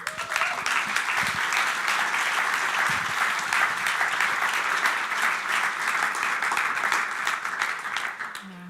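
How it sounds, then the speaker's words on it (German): A steady wash of audience applause fills the hall at a talk, dense and sustained at an even level throughout, then tapering off slightly near the end. "ich möchte euch einfach einladen, dass ihr einen herzlichen Applaus gebt"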